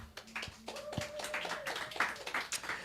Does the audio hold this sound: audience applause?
yes